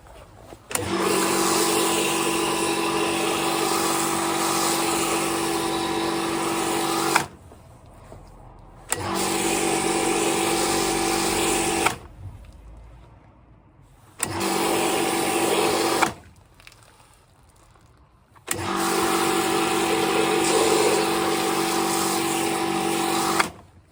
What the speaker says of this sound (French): Je vais faire avec donc le foam gun de chez Ava